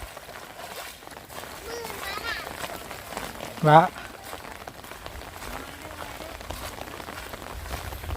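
Steady rain patters on surfaces throughout, with a brief voice calling out partway through and faint talk in the background.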